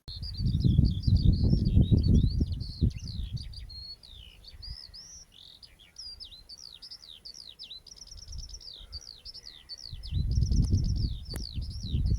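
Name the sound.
skylark song during display flight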